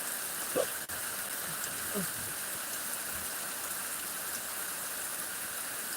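Heavy rain falls steadily during a thunderstorm over farmland, a dense, even wash of noise that continues throughout, with a faint knock or two near the start.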